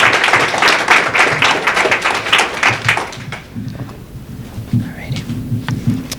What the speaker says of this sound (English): let's have a nice round of applause for Francia Montero, a branch manager